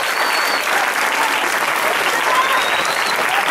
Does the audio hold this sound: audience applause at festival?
yes